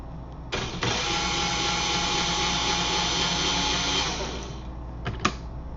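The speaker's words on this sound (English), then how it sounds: "So you can see at 5 volts the motor does spin just fine." A small electric DC motor runs at 5 volts with a steady, continuous whirring hum that sounds close and alone. It spins for about four seconds and then winds down, followed by a couple of brief clicks.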